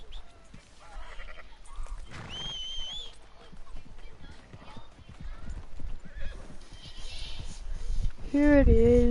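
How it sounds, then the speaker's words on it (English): Horse hooves clip-clop steadily in Red Dead Redemption 2. A horse neighs clearly near the end, and game voices talk in between. "Here's the horse I love. It's a wild horse."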